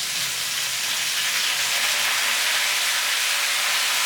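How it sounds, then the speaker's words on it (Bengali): Potatoes and raw banana fry in a pan with a loud, steady, close hiss and sizzle that stays constant throughout. "আলুটা কিছুক্ষণ ভেজে নিয়ে এর মধ্যে দিয়ে দিচ্ছি কাঁচা কলা"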